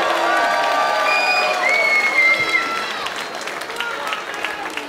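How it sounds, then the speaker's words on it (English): Arena crowd applauding two female fighters after a five-round Muay Thai bout, a broad wash of clapping and cheering that swells and then slowly fades, with an announcer's voice over it. "a massive round of applause for both of these ladies after five superb rounds of action"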